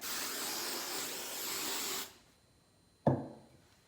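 A steady aerosol hiss sprays for about two seconds, then cuts off; a short clack follows a second later.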